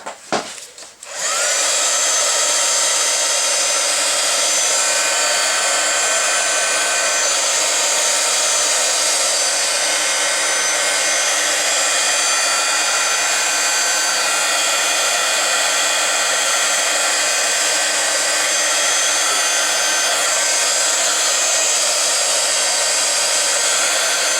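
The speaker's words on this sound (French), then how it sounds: "vous pouvez utiliser le pistolet à chaleur pour mélanger les couleurs entre elles" A heat gun blows steadily on poured resin to blend blue colours in an art workshop. A loud, constant whirring hiss starts after a brief handling clatter and runs unbroken for over twenty seconds, with no talking.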